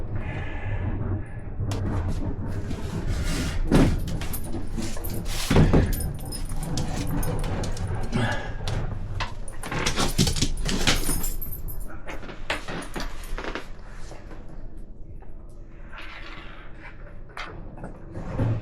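Metal tags on a noisy dog collar jingle and clink repeatedly as it is handled and adjusted indoors, close by, with scattered rustling and occasional faint voices.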